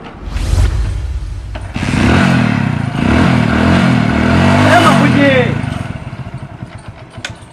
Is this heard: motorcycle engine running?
yes